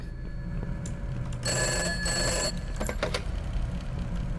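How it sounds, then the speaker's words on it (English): A telephone in a horror video game rings at 12 a.m., a steady electronic ringing burst with a second shorter ring, heard against a constant low background hum. "12 a.m. phone ringing."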